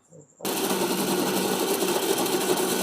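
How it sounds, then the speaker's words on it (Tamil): A kitchen mixer grinder grinds drumstick leaves into dosa batter. It starts abruptly after a brief quiet moment and then holds a loud, steady, buzzing whir to the end. "இப்போ இந்த கீரையை வந்து நம்ம இதில் ஆட் பண்ணி அரைச்சிக்க வேண்டியதான்"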